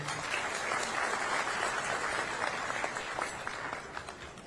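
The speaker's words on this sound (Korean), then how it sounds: "소중한 말씀을 나눠주신 세 분께 큰 박수 부탁드립니다." Sustained applause from a seated audience at a Korean community gathering in the Philippines, an even, dense wash of many hands clapping that holds steady throughout and tapers slightly at the end.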